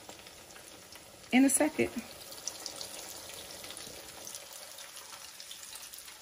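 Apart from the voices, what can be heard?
salmon croquettes frying in grease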